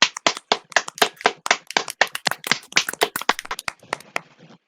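Someone slaps their own face to imitate applause: about twenty sharp, close, uneven smacks in quick succession that fade slightly toward the end, with no talking.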